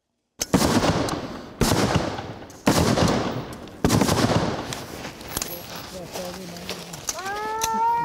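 Danish light infantry reenactors fire rifles in four sharp, loud volleys, each a close crack with a rolling echo, followed by horse whinnies and scattered voices.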